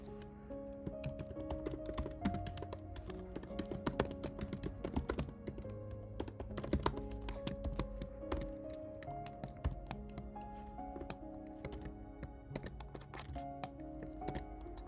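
Rapid, continuous keystrokes clatter on a computer keyboard at close range, with a quiet musical backing underneath.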